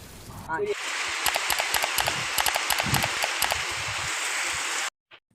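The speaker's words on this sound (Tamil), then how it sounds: "இங்கேயும் ரொம்ப மழை இருக்குக்கா" Heavy rain falls steadily and loudly for several seconds, a dense broadband hiss with bursts of rhythmic tapping, before stopping abruptly.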